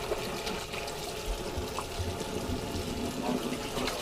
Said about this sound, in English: So we're gonna wash our hands first.